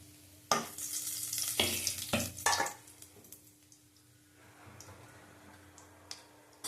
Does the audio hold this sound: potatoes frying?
yes